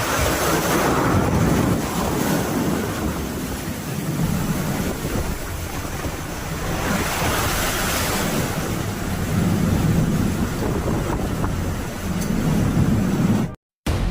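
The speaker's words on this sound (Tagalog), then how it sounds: "maging handa sa isang higanting alon na tatama sa kanila anumang sandali" Giant ocean waves roll and crash as surf, a loud continuous roar that swells and ebbs in long surges, buffeted by wind noise on the microphone, cutting off abruptly near the end.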